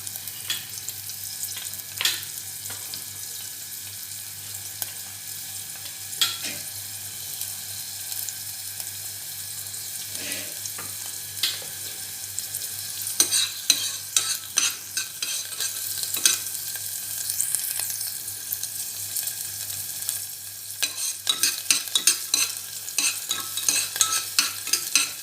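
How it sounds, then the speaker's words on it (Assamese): Onions fry in a pan for a vegetable dal, with a soft continuous sizzle broken by scraping stirs that grow busier and more frequent toward the end. No one speaks. "পিঁয়াজ দি দিছোঁ মই।"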